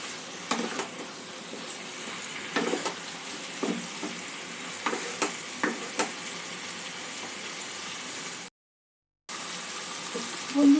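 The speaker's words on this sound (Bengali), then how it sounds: "সব কিছু একটু ভালো করে সমস্ত উপকরণগুলো মশলার সঙ্গে মিশিয়ে নেব।" Jackfruit and fried potato being stirred with spices in a hot pan, giving a steady close sizzle broken by repeated scraping strokes of the spoon, with a brief silent gap near the end and no speech.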